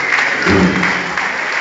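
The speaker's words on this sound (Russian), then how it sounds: "Аплодисменты спортсменам, которые проявляют недюжинную волю к победе." Spectators at a youth boxing semifinal of an open championship applauding the young athletes, a short, loud burst of clapping in an echoing hall with a brief murmur partway through.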